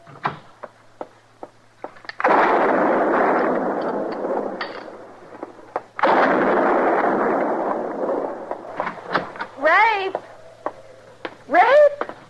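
Gunshots ring out in an old-time western radio drama, with heavy booming blasts and sharp reports echoing across a long stretch, followed by quick ricochet-like whines near the end, all loud and without voices.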